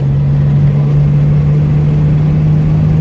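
A 1982 Chevrolet S-10 truck, off the road for years, drives with a loud, steady engine drone and a constant whining hum, heard up close with no talk.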